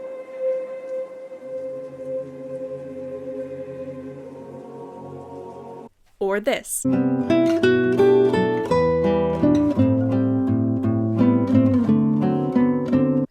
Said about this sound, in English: what I have decided to call immersive,